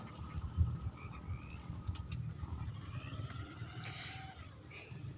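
Frogs croak in low, throaty bursts nearby in a rural field, layered over a faint outdoor background hiss and a few distant sounds.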